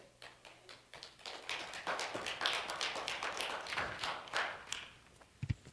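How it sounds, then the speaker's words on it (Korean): A church congregation at a Sunday service in Colorado Springs claps to welcome the preacher, scattered claps gathering into a brief, moderately loud round of applause that trails off, ending with a soft thump. "박수로 맞이할까요?"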